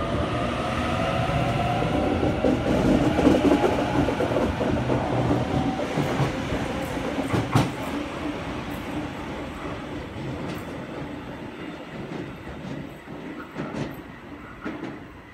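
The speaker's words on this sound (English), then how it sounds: "A46 now departing platform number 2 of Hornsby service" A Sydney passenger train pulls out of a platform at Cheltenham station at night, a loud, continuous rumble of wheels and motors that slowly fades as it moves away, with faint rail clicks and no voices.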